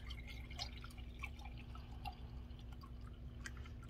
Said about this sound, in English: just gonna pour my milk into my jars